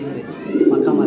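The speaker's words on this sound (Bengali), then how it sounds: "তো এখানে কত জোরে মোট কবুত রয়েছে ভাই?" Pigeons cooing on a Narsingdi pigeon farm that keeps both local and fancy breeds, a close, steady low coo running through the whole short stretch and swelling louder toward the end.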